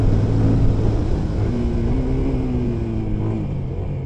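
A Yamaha FZ25 motorcycle engine accelerating and shifting through gears with blips and progressive braking, its drone rising and falling in pitch over a few seconds, close and fairly loud.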